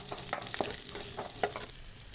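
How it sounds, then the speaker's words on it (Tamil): Mustard seeds, cumin, lentils, peanuts, curry leaves and green chili fry in hot oil, making a soft, steady crackle and sizzle with faint stirring. "இதை வந்து நம்ம நல்லா ஃப்ரை பண்ணி எடுத்துக்கலாம்."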